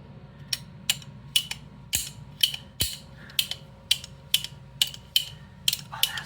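Trigger of an AR lower receiver being pulled and reset over and over, giving a steady series of crisp mechanical clicks and snaps, close and dry, about two per second.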